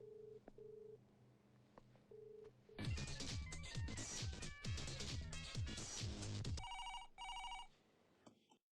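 A telephone line gives a few short repeated tones, then a loud burst of busy music and noise, followed by a rapid high electronic ringing pattern near the end.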